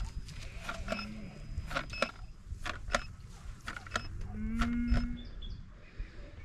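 In-calf heifers in a paddock moo several times, some calls close and long and others farther off, over a low rumbling background with a few faint mechanical clicks.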